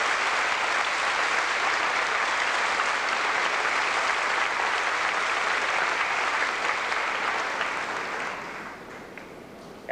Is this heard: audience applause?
yes